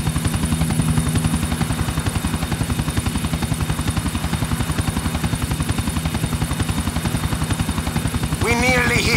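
Helicopter in Grand Theft Auto IV, flying toward a rooftop landing: a steady, loud rotor chop with a rhythmic thumping throb and engine whine throughout, with a brief higher whine near the end.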